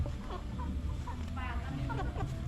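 Hens cluck in short repeated bursts at an outdoor spot in Vientiane, with a busy background bed and faint voices in the mix.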